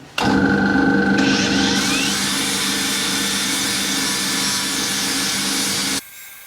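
A drill press starts up and hums steadily while a flap wheel grinds against a spinning metal chassis part, loud and continuous for about six seconds before stopping abruptly.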